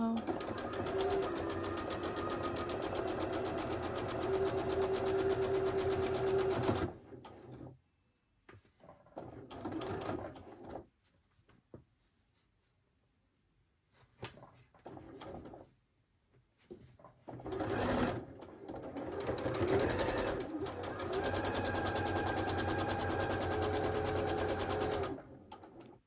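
A sewing machine stitches a quilt block seam in long, steady whirring runs that stop and start, with quiet gaps and a few faint handling sounds between them.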